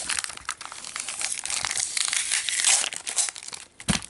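Crinkly plastic wrapper on a Pokemon XY12 Evolutions booster pack crackles and tears as tape is peeled off it, close and continuous, in quick uneven bursts with no talking.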